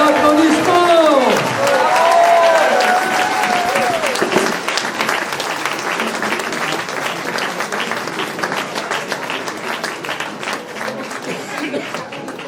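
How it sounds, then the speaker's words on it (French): A crowd at a political meeting of the Reconquête! party in Montescot claps in sustained, loud applause that swells then slowly tapers, with a few voices and faint speech rising over the clapping. "Et un tonnerre d'applaudissements."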